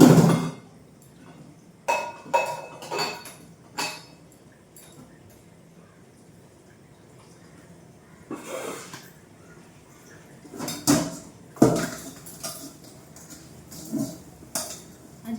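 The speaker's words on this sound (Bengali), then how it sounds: "আগে বাসন কটা ধুয়ে নিই" Dishes being washed at a home kitchen sink, with intermittent clinks and clatters of utensils and pots set down and handled, separated by quiet pauses and no talking.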